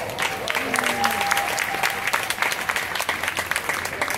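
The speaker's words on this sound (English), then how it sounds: "Give yourselves a round of applause." Outdoor crowd at a Harlem street renaming dedication applauds, a steady wash of clapping with a few whistles and scattered voices, gradually thinning toward the end.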